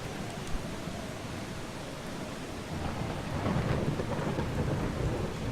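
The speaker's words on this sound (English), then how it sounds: "What? Is it raining in the house?" Rain falls indoors inside a ranger's house in the video game Eastshade: a steady, dense hiss of rainfall with a low rumbling undertone that swells slightly toward the end, with no voices.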